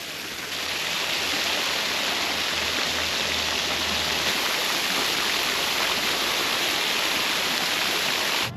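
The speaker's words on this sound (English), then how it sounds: "looking past these lovelocks is a cute man-made waterfall" A small man-made waterfall at Picnic Point Parklands in Toowoomba, Australia, pours in a steady, full rushing wash that holds constant and fairly loud from start to finish, with no voices.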